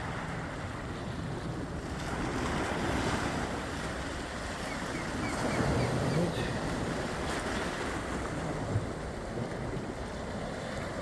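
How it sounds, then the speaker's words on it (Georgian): Atlantic Ocean waves at Staten Island wash in as a continuous broad roar of surf, mixed with wind buffeting the microphone. "ეს დიდი ტალღები არ არის"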